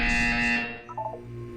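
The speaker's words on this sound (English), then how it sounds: "When you hear the buzzer, look up at the ceiling." A loud, harsh electronic buzzer from the video game Portal 2 sounds for about half a second, then fades into quieter game tones.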